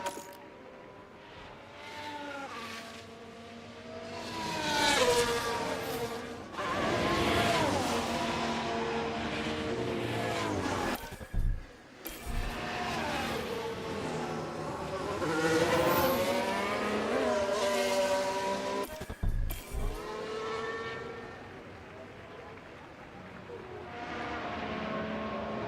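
A Mercedes Formula 1 car in the game F1 Manager 2013, its high-pitched engine screaming and rising through revs, dropping sharply on downshifts and climbing again as it passes, loud and continuous.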